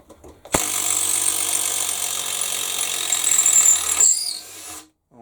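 Makita impact driver removing lug nuts, a loud sustained rapid hammering rattle that starts abruptly, runs about three and a half seconds and cuts off, with no talking.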